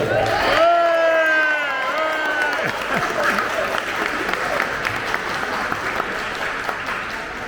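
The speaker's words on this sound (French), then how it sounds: "On peut l'applaudir, Olivier." Applause breaks out for Olivier at a festive evening gathering during a Lourdes pilgrimage, with cheers and whoops rising over it. A voice is heard at the start before the clapping settles into a steady crowd patter.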